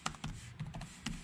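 Quick bursts of typing on a computer keyboard, close and crisp, with about a dozen uneven key taps over little more than a second.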